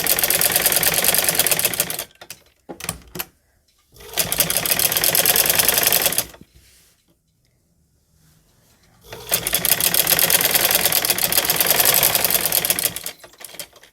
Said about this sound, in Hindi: हम इस तरह से जो बीच हमारा सेंटर था वहाँ से अब हम इसको इस तरह उठाएंगे और हम इस तरह से ये सिलाई लगाएंगे